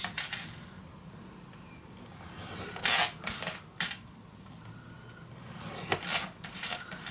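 Paper scored half an inch around the edge for a handmade scrapbook mini album, giving short, sharp scraping strokes in a few bursts, close and fairly loud against a quiet room.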